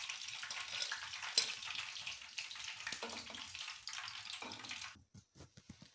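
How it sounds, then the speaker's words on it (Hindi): Pieces of masala-coated fish frying in hot oil, a steady broadband sizzle with small spits and bubbling that runs for about five seconds and then cuts off abruptly, leaving a few faint knocks. "अब इसी तरह से मैं सारी मछली अपनी को फ्राई कर लूँगी ऐसे पीस डाल के"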